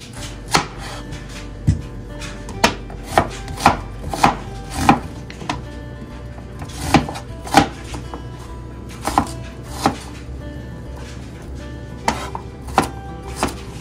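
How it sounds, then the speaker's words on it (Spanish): A knife chopping onion on a board: about twenty crisp, close chops in irregular bursts, with no talking. "Vamos a partir algo de cebolla."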